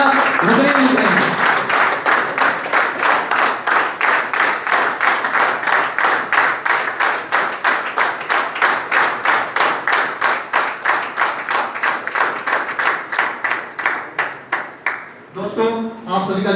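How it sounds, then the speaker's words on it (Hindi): Sustained audience applause at a training event in Rudrapur settles into steady rhythmic group clapping in unison, loud and close, fading near the end as a voice comes in. "तालियां रुकनी नहीं चाहिए।"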